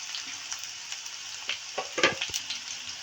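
Garlic and green chillies frying in hot oil for Kannada-style pepper chicken, a steady close sizzle with brief sharper crackles and spatters around the middle.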